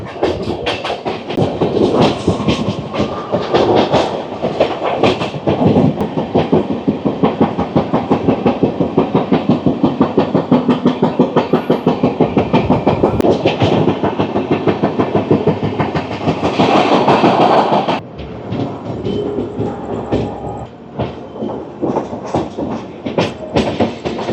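Clickety-clack of wheels over rail joints, a steady rapid rhythm heard from inside a first-class AC coach of the Howrah–New Delhi Rajdhani Express as it runs along the line, loud and continuous before easing slightly near the end.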